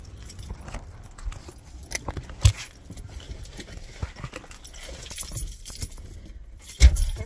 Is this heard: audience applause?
no